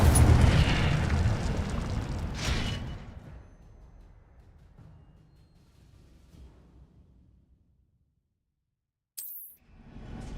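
Incendio fire spell in Hogwarts Legacy erupts in a loud fiery blast that roars and fades over several seconds, then a short sharp burst follows after near silence.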